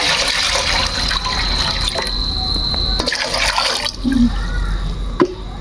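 Rainwater is poured into a cooking pot set on a stove, giving a steady splashing and gurgling stream with a brief lull and a louder slosh near the end.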